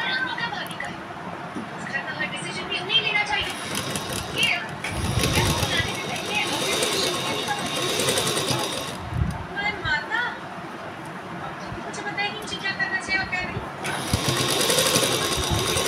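Sewing machine stitching a zip onto lehenga fabric, running in repeated bursts of mechanical whirring and clatter with a person talking over it throughout.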